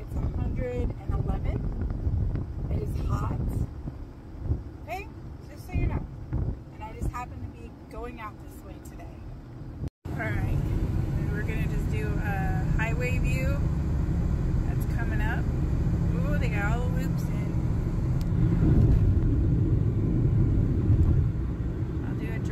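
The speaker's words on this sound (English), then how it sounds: "I'm driving home" Steady low rumble of a car being driven home, heard from inside the cabin, with a constant road and engine drone that grows fuller after a brief cut, and a voice talking over it throughout.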